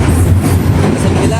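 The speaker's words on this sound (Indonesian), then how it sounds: "meskipun ada kereta lewat guys" A train rolls past close by at a secondhand phone market in Surabaya, a loud continuous rumble with rhythmic wheel clatter, with faint voices underneath.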